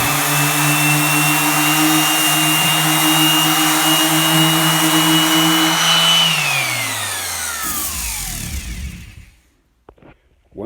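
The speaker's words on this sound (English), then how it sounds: "Now I'm going to sand it with 220 grit." A power sander smooths a countertop repair with 220-grit sandpaper, a loud steady whine and hiss that winds down in pitch and fades to quiet near the end.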